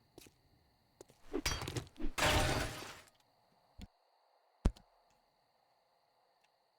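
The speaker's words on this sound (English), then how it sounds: "That was the glass I heard breaking." Glass breaking in a zombie survival video game as zombies attack, a quiet burst of shattering and crunching followed by a few scattered thuds and clicks.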